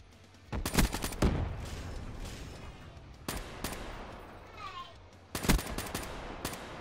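Loud gunshots in a video game, a quick cluster of sharp cracks, then a single shot, then another tight cluster, with softer game noise between them.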